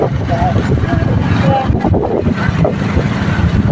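During a ride along a busy street on the first day of fasting, wind buffets the microphone in a constant loud rumble and roar that covers muffled background voices.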